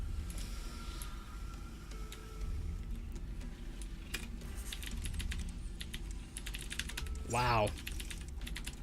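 Rapid keyboard typing while playing the Epistory video game, a quick, quiet stream of key clicks with a bright sweeping game effect near the end and a brief exclamation.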